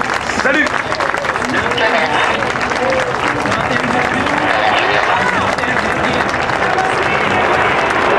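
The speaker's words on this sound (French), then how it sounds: "On peut les applaudir bien fort." Loud, dense crowd applause at the 2013 Le Bourget air show as the Patrouille de France jets pass, blended with broad roaring noise and an announcer's voice over a public address system.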